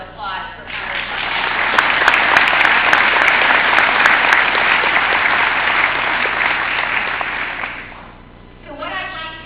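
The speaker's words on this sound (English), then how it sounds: "another round of applause for Congresswoman" A crowd at a tech event gives a Congresswoman a sustained, dense round of applause, loud and even for several seconds before fading as a voice resumes.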